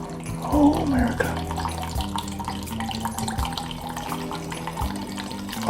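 1981 Jim Beam bourbon poured into a glass decanter, a continuous close gurgling trickle with uneven glugs running for several seconds, a light thump at the start and end.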